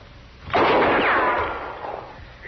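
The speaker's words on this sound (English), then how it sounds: "She's aiming that rifle at me, Chester" A single loud rifle shot from an old Western radio drama cracks out suddenly, then decays in a long, rumbling echo lasting about two seconds, with no voices over it.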